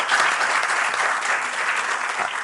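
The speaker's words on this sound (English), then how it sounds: "Please give them a clap." An audience at a panel discussion on religion in society applauds steadily, a dense wash of clapping hands that holds at an even level throughout.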